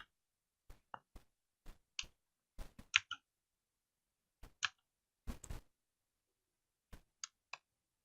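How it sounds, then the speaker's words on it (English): A mechanical keyboard fitted with Cherry MX Blue switches gives sparse, crisp clicks, single or paired keypresses spaced irregularly over a quiet background, faint and close. "My keyboard does have a MX Blues from Cherry in them."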